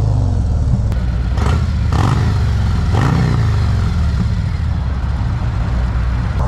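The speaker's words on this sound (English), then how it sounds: "This one has a Cobra exhaust on it, so you guys can get a nice little sound." A 2024 Harley-Davidson Street Glide bagger fitted with a Cobra exhaust idles and revs loudly up close, its deep rumbling V-twin note pulsing steadily with a few throttle blips.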